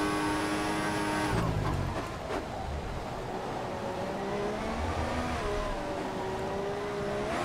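An F1 2014 race car in a video game revs and accelerates, its engine whine climbing steadily and loud before dropping away, then building again over a continuous rumble.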